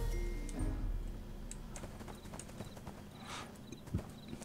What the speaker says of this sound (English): Dying horse.